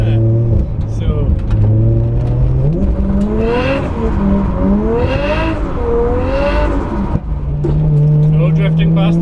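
A 440 bhp R33 Nissan Skyline engine revs loud and close on a track, its tone climbing and falling through repeated pulls and lifts, with a voice talking over it.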